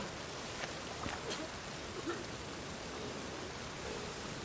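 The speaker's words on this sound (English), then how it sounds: "Rain again." Steady rain hisses in The Witcher 3 as an even broadband wash with a few faint drip accents, no voices.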